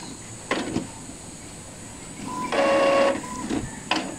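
Inkjet printer whirring and clunking after a cancelled print job, with short mechanical bursts, a sustained motor run in the middle and a final click, close and moderately loud with no speech.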